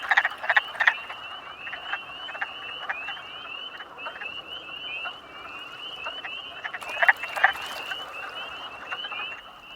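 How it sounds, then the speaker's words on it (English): Male frogs croak from a pond an hour before sunset, a dense, continuous chorus of rapid rattling calls with some louder nearby croaks standing out. "An hour before sunset, the pond comes alive with male frogs serenading the"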